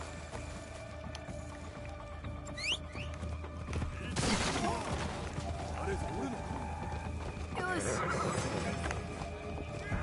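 Hooves pound rhythmically as a horse runs in the video game Assassin's Creed Shadows, with a whinny and game-like effects layered over a busy background; a voice speaks at times.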